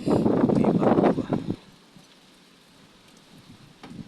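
Heavy rain falls during Typhoon Christine, a loud, steady close hiss for the first moment that suddenly drops to a faint, distant patter.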